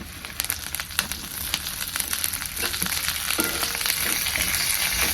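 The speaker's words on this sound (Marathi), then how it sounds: "मिरची आपल्याला ह्यात टाकून घ्यायची त्या लसणामध्ये" Green chilies frying in hot oil with reddened garlic, a steady dense sizzle with crackling pops and occasional stirring clicks, close and continuous.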